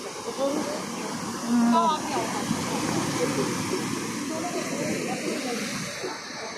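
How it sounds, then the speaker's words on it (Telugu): Big ocean waves surge at Kanyakumari, a continuous broad hissing roar of surf from close by, with people talking over it. "పెద్ద పెద్ద అలలు వస్తున్నాయి చూడు"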